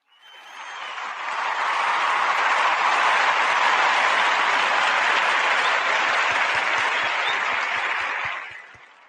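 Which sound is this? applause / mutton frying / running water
applause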